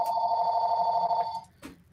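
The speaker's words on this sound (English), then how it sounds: "Uh-oh. Phone call." A telephone bell rings steadily and loudly for about a second and a half, then cuts off, leaving a quiet background.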